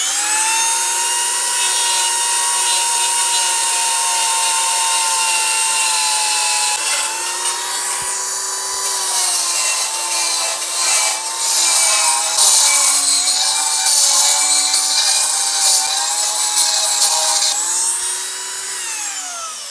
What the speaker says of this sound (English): I'm going to use a carbide reamer for the die grinder and just oblong this out and do the same thing to the other side.